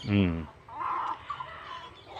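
A rooster lets out a short, loud cluck-like call at the start, followed by fainter clucking and rustling.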